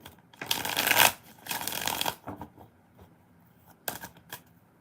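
Tarot cards shuffled in a few close, crisp riffling bursts, a long one early, then shorter flurries separated by quiet pauses.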